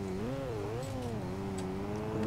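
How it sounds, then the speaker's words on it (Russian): Car engine in the racing video game Street Racing Syndicate, a steady loud drone whose pitch rises and falls in gentle waves as the revs shift, continuous and close throughout with no talking over it. "Слышите, как машина?"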